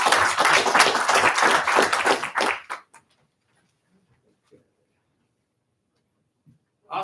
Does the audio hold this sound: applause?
yes